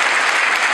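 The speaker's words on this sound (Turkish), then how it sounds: "Onun için onları da burada alkışlatmak istiyorum arkadaşlar." Crowd applauding Bodrum municipality staff at an outdoor political rally, a dense burst of loud, continuous clapping from many people, close and filling the moment.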